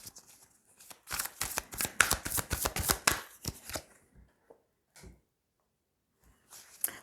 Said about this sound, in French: Je vais reprendre une carte sur la lune.